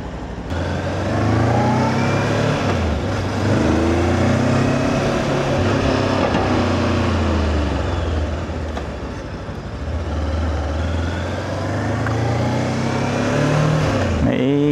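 A Voge DS 525X motorcycle rides through the streets of BGC with a continuous close engine drone that rises and falls with the throttle, mixed with road and wind noise and no talk.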